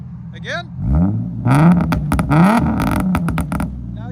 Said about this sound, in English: Now you can hear the pop.